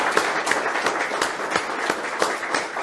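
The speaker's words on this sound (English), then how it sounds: "let's give a nice round of applause to Professor Ochoa" A lecture audience applauds a law professor, with dense, rhythmic hand clapping that stays steady and fairly close, with no voices over it.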